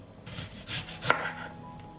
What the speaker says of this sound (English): I cut the onion into thin rings